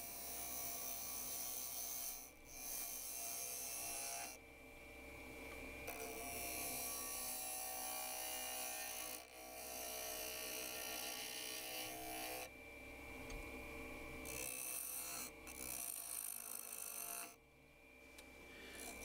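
Lathe tool working a spinning bubinga wood bowl, a steady close scraping and rasping with brief pauses and shifts in texture as the cut refines a curve; no talking.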